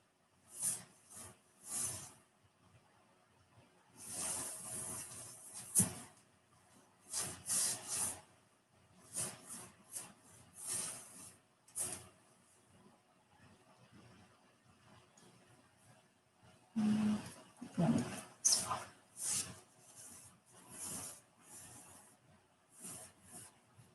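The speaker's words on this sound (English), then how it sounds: "What I'm sketching in now is the detail, not the detail, the silhouette of Black Panther" A pencil sketches a figure's silhouette on paper, close scratchy strokes arriving in quick clusters separated by quiet pauses, varying in length and intensity, with no one talking over it.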